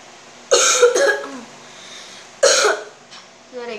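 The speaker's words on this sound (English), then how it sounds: "Guys, I just cough." Two short bursts of coughing a couple of seconds apart, close and fairly loud, with faint background noise between them.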